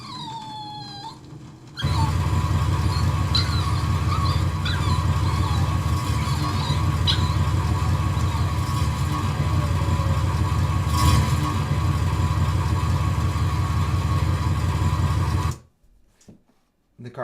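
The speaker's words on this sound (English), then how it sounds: "The car comes in pretty quick." A car sound effect placed in an Ableton arrangement enters abruptly after a brief tonal intro, holding a loud, steady engine rumble with a droning hum for about fourteen seconds before cutting off sharply; no one speaks.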